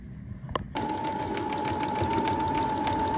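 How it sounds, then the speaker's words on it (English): A sewing machine stitching fabric on an automatic setting starts up after a brief click and runs at a steady, fast, even hum, close and alone with no talk. "Hold the top thread up slightly and start sewing."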